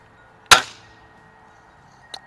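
A single sharp crack from a Weihrauch HW-50S spring-piston air rifle while plinking at backyard targets, close and loud with a brief decay, followed by a faint tap from the pellet's impact.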